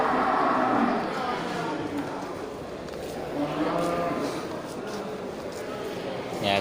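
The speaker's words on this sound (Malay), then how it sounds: "Ya, kerbau jantan ini masih bakalan." A young male Aceh water buffalo at a livestock trader's pen lowing with long, drawn-out moos, one early and another mid-clip, close by with someone talking over the calls.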